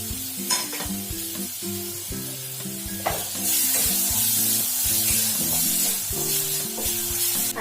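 Sliced onion dropped into hot oil for a Mithila-style cauliflower sukhauri curry, a loud close sizzle that swells and keeps hissing, with stirring clatter and music underneath.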